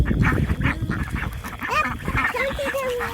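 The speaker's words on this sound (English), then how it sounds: "Here's the 10 ducks that we are keeping" Ten homestead ducks, a mix of white, black-and-white and brown birds, quack and honk in a busy, overlapping chorus at close range, with no talking over them.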